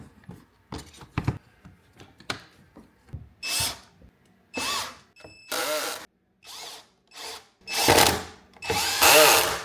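Power drill boring pocket holes in wood with a Kreg Pocket Hole Jig while building night stands, heard as short whirring bursts that lengthen and grow louder, separated by brief pauses and a few clicks.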